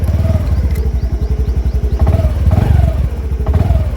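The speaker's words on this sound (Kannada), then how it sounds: "ಗಾಡಿ ಆನ್ ಆಯಿತು." A Honda Dio 125 scooter with a double exhaust idles close by, its single-cylinder engine putting out a steady, throbbing low pulse with slight rises in revs.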